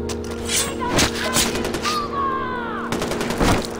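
Gunfire in Far Cry 4: several sharp shots crack close by, mixed with a steady hum and a bright rising whistle, with a final burst near the end.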